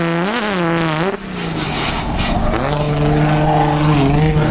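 A 1JZ-engined NASCAR race car, tested as a drift car, drones loudly with a wavering revving tone that suddenly drops away as power cuts out, then picks back up to a steadier, lower hum.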